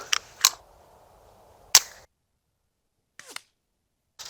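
A suppressed Ruger 10/22 rifle firing Aguila Colibri rounds: sharp, short reports, two close together and a third a moment later, then a fainter clack after a pause, with quiet in between.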